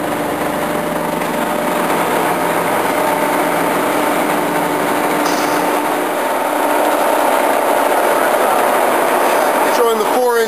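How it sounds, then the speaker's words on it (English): A Giddings & Lewis 340-T table-type horizontal boring mill with a 4-inch spindle runs its saddle on rapid traverse, giving a steady loud mechanical whine and hum alongside shop noise, with a brief squealing sweep near the end. "Showing the saddle rapid."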